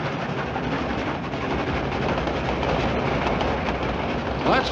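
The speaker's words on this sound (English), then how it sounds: "Roy, that train isn't going to stop." A train rolls steadily past without stopping in a Western action film, a dense continuous rumble of wheels and rail noise that stays loud throughout, with no voices.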